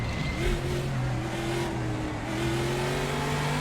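A Chevy Monza race car engine in a racing simulator game holds a steady, close droning roar with a sustained tone that rises slightly in pitch as it revs, continuous throughout with no talking.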